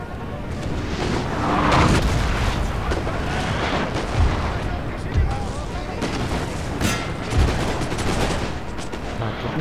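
Napoleonic-era musket volleys and cannon fire from a Napoleon: Total War battle, a dense continuous rumble of distant gunfire with a few louder booms, under a voice.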